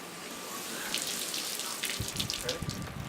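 Water runs and splashes steadily from a soaked blanket lifted out of a washing machine that won't drain, with louder spattering bursts toward the end and a voice faintly in the background.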